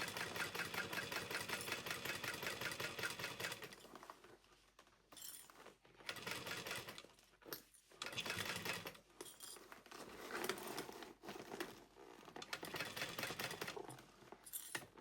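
A sewing machine stitching a Charyn handbag through a few layers, running in steady mechanical bursts with brief pauses between them, close and moderately loud with no talking.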